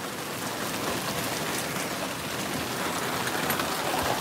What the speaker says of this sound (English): Here's some more rain, guys. It's still coming down.